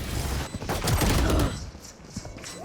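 Rapid bursts of gunfire in the shooter game Valorant, loud and dense for about a second and a half, then fading into quieter scattered game sounds.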